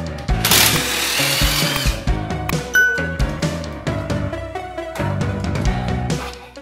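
A power drill backs out bolts from school bus seats, a loud, steady whirring whine that runs almost continuously with brief dips and restarts, close up and with no voices.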